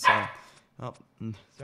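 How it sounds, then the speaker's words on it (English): A pet dog barks and yips close to the microphone while someone gaming at a computer speaks; four short barks come in a broken rhythm, the first overlapping the voice. "that was my dog."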